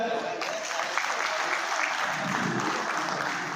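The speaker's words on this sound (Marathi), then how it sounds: "पहिल्या आमच्या कुटुंबासाठी टाळ्या वाजवूयात" Steady applause from an audience at a retirement event for a police inspector at Oshiwara police station, clapping for the officers' families, a dense, even roar held throughout.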